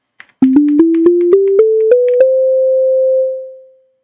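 A sine wave synthesizer built in Tone.js plays a rising scale of eight pure tones, each step starting with a soft click, the last note held and then fading out smoothly.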